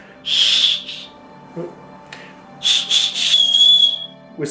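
A shrill whistle built into a fire steel striker blows close up in short bursts, first a pair, then a longer run of blasts, with faint rubbing in between.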